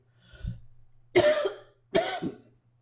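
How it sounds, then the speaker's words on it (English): Two close, harsh coughs follow a softer throat-clearing sound, with brief silences between them. "Excuse me, let me mute out for just a moment. I got a little coughing to do here."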